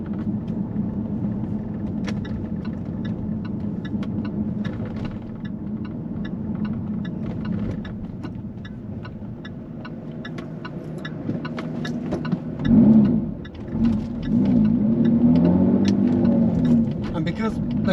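Jaguar F-Type sports car with a manual gearbox driving through an empty city centre, its exhaust rumbling and droning steadily, echoing off buildings on both sides of the road, swelling louder near the end.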